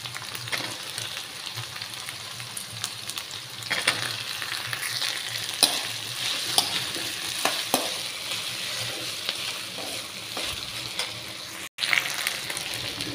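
Potatoes fry in hot oil in a pan for batata rassa bhaji with tomato, giving a steady close sizzle throughout, broken by repeated scraping and clinking from stirring.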